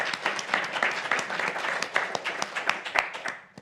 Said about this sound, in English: Can we give Dinah a round of applause?